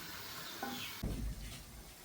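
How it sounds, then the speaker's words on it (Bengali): Mixed vegetables are stirred in a hot wok, giving a soft sizzle with a brief louder scrape and clatter of the utensil partway through. "সবগুলো সবজি আমি কড়াইয়ের মধ্যে দিয়ে দিলাম এখন নাড়াচাড়া করছি"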